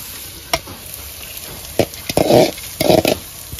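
Chopped onion frying in a pan for desi-style upma, a low sizzle broken by scraping stirs and short bursts of louder crackling, close and with no talking.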